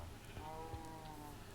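A Minecraft sheep lets out a single faint, wavering bleat that lasts about a second, set low in the mix beneath a soft background hum.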